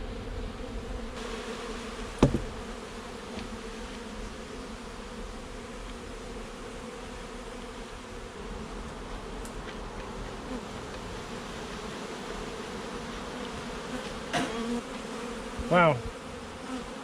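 Honeybees hum steadily around an open hive during a spring inspection, a constant close buzz with a few sharper passes of single bees near the end and no talk.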